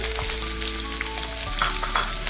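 Dried chillies, garlic, ginger and onion frying in a pan for tomato chutney, a steady close sizzle with scattered crackles and pops, no voices.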